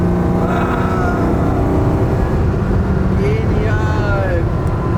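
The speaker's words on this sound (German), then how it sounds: "die Maschine läuft so dermaßen gut" A low-mileage 1980 BMW M1 with its engine running steadily, a loud, close, continuous mechanical drone with a few faint higher tones drifting over it.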